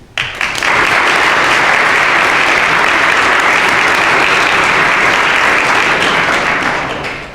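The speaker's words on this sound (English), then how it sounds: "Please join me in a round of applause to thank these people for their service to our community." An audience in a school chapel applauds, a dense, loud burst of clapping that swells quickly, holds steady for several seconds and tapers slightly at the end.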